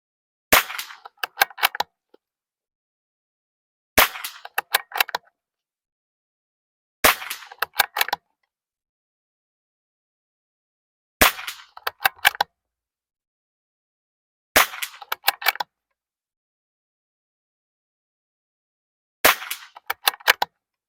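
Six sharp shots from a Tikka rifle loaded with Eley ammunition, fired at targets on an outdoor range in intermittent wind, spaced several seconds apart; each report comes as a short cluster of cracks and echoes, with no talk.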